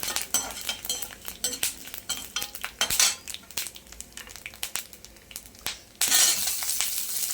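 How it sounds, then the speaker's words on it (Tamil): Cumin, fenugreek and pepper seeds sauté in oil in a pan for garlic-pepper kuzhambu, with quick metallic clinks and scrapes from a stirring utensil over a soft, uneven sizzle nearby. "சீரகம், வெந்தயம் போட்டு வதக்குவோம்"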